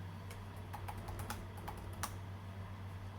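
Keys clack on a cheap gaming keyboard in a scattered run of sharp, close taps, sparse and irregular over a quiet background hum.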